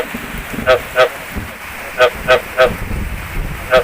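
Steady rain hisses throughout during a thunderstorm, with a series of short, honking frog calls rising above it in uneven pairs.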